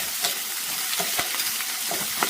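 Garlic and onion sauté in a pan for chutney, giving a dense, continuous sizzle with brief spatula scrapes every so often, close and steady, no talking.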